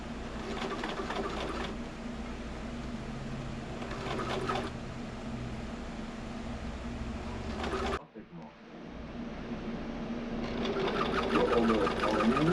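A sewing machine stitches a marine cushion cover in steady runs, pausing briefly and then starting up again, close and fairly loud with a persistent motor hum.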